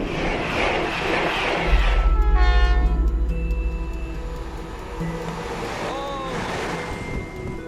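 A train passes loudly with a long blaring horn, heavy low rumble underneath and a rushing whoosh, the horn fading into lingering rail noise with a second short horn tone later.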